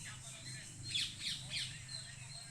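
A parrot calls from somewhere high above a backyard, three harsh squawks around the middle of the stretch, fairly faint and distant over a low background hum.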